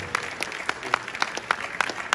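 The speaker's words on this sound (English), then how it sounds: "Please give a round of applause." Audience applause at an honors event celebrating a dance sport group's accomplishments: a short burst of scattered, distinct handclaps at moderate level, thin rather than a dense roar, with no voices over it.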